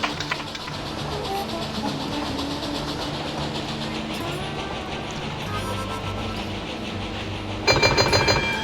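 Train running in Railroad Tycoon 2, a steam-era railway simulation game: a steady rolling rumble with hiss and rhythmic clatter that runs throughout, growing louder near the end.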